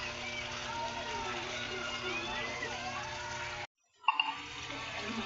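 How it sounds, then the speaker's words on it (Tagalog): Water being poured into a pan of sardines for misua soup, a steady splashing trickle for several seconds, then a brief break followed by a couple of sharp clatters, with speech faintly under it. "Ayan, lalagyan natin ng tubig na"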